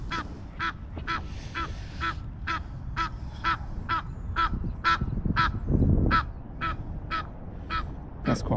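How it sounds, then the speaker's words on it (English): Crows or similar birds call loudly and repeatedly in a steady series of harsh caws beside a frozen lake during a winter fishing match, with outdoor rumble underneath. "Right, noisy birds."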